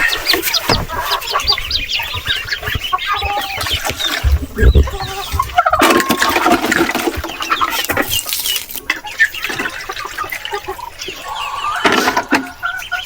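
Peking ducks inside a pen, loud and close: continuous clucking, quacking and squawking from many birds overlapping, with splashing and scuffling throughout.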